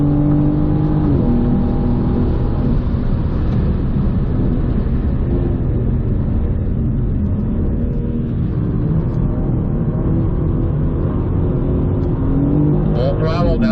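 A BMW M4 GT4 race car runs at full throttle down a track straight, its engine a loud, dense, droning roar heard from inside the car that holds steady with a brief shift early on.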